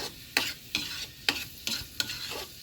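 Chicken pieces browning in a pan in their own rendered fat with no added oil: a soft sizzle under sharp, rhythmic scrapes of a spatula turning the meat roughly every half second.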